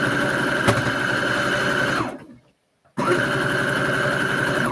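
A sewing machine stitches a seam at an even, whirring drone, stops for about a second, then starts up again and runs steadily, close and loud.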